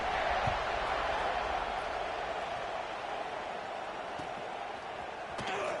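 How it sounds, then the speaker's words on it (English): A stadium crowd at a Texas vs Arkansas football game keeps up a steady, dense roar of murmuring voices, loud and unbroken throughout with no single sound standing out. "this crowd is buzzing after that last score"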